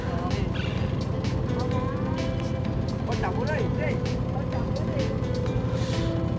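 A tourist boat engine drones near Phong Nha cave, a loud, steady motor rumble that runs throughout with some faint high sounds on top and no clear talking.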